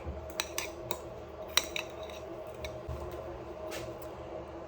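A spoon stirs a mixture of hazelnuts and orange blossom water in a bowl, making light, irregular clinks and scrapes against steady background hiss.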